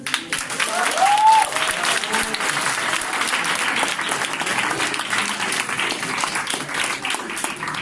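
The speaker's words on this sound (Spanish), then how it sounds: "Se los dejo a ustedes para que le den un aplauso." Seminar audience applauding a guest speaker at a university talk on general relativity, steady sustained clapping from a full room for several seconds, with a brief voice audible early on.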